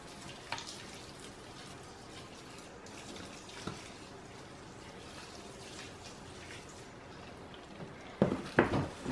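Water is poured onto Reptichip coconut substrate, a soft trickling and faint splashing running low throughout, with a few louder sloshing bursts near the end.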